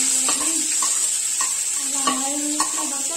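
Finely chopped onions fry in a pan for green peas pulao, sizzling steadily with scattered sharp pops and spatters, and a spatula scrapes and knocks against the pan now and then.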